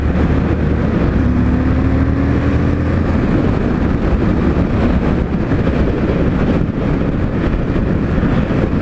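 An Indian FTR 1200 motorcycle with a 6-speed transmission cruising on the freeway, a loud continuous engine drone under heavy rushing wind buffeting the microphone, with a brief rising tone early on.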